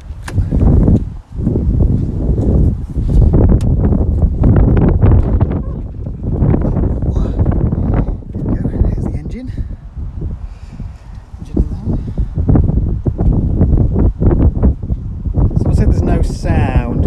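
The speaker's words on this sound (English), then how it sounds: "if it's just really windy" Heavy wind buffets an outdoor microphone beside a BMW M1 Procar, a constant loud rumbling roar with gusty surges and brief dips throughout.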